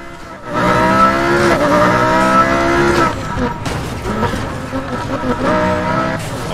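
A car accelerates hard in the racing game NFS Heat with the Unite mod, its engine note climbing steadily in loud, sustained harmonic sweeps. A brief dip comes partway through, then the revving resumes, with a voice talking over it.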